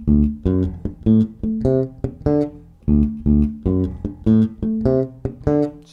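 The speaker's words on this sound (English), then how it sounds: "So we're going to put ghost notes before each note as we rise up through the arpeggio." A bass guitar plays a slow rising arpeggio, each note preceded by a muted ghost note, giving a steady plucked pulse, close and clear with no voices.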